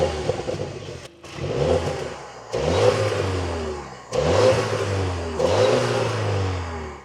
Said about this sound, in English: let's twist the start button and bring this to life